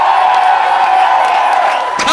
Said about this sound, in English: let me hear you make some noise fucking loud